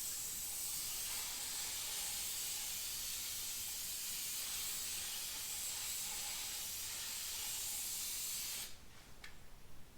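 A long continuous hiss of spray adhesive being sprayed from an aerosol can close by onto Honda Prelude door trim, then stopping with a few short bursts at the end.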